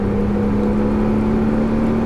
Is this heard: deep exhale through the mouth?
no